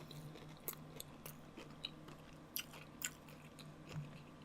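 Biting and chewing crab-stuffed black tiger shrimp: several soft crunchy bites and moist chews at close range, spaced irregularly, quiet and with no talking.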